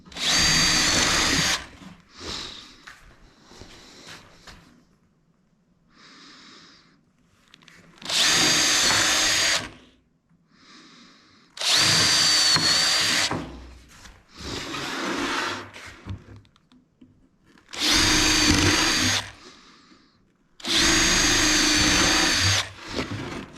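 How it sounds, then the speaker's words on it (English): Power drill with a countersink bit boring into a wooden porch swing piece, heard as six loud, close bursts of whirring, each about two seconds long and separated by short quiet gaps. "So I go ahead and countersink all my holes"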